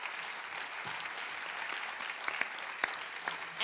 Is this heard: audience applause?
yes